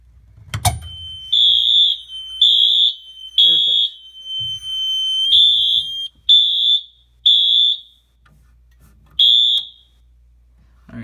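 A Wheelock two-wire fire alarm blares after a pull station is activated, sounding loud electronic tones in repeated pulses of about a second with one longer stretch. It cuts off near the end, and a voice speaks briefly.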